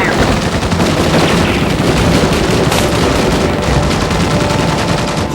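Intense rapid machine-gun fire from the Terminator 2 3D Battle Across Time attraction, a loud continuous burst of automatic gunfire with booming impacts running throughout.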